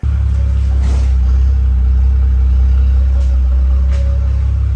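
A BMW E91 track-build car, driven out after about six months in storage following a rear subframe swap, has its engine running with a loud, close, steady drone and no voices.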